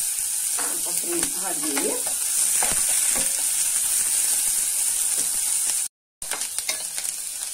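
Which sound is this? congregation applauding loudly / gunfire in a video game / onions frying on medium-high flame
onions frying on medium-high flame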